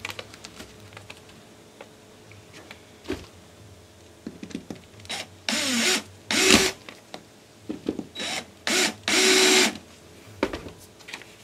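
A power driver sends a screw into thin timber against a jig for a paper-frame electric trike, giving several short whirring bursts of varying length separated by pauses, close and fairly loud.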